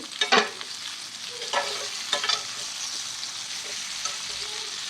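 Cut bitter gourd pieces tipped into hot oil and stirred while frying, with a few sharp scraping spoon strokes early on over a continuous close sizzle that settles into a steady hiss.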